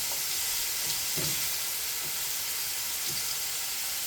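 Compound butter made with paprika and spices sizzles in a hot pan, a steady close frying hiss with a few soft bumps and stirring sounds, and no voices.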